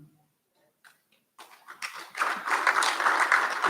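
An audience at a recognition ceremony breaks into applause: a few scattered claps, then clapping that swells quickly into steady, full applause from a crowd.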